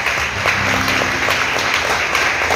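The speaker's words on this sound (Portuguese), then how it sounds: "Vamos dar um aplauso ao Senhor pela vida do senhor Edson" A church congregation at a Christmas cantata claps in a steady, full round of applause that fills the room evenly from start to finish.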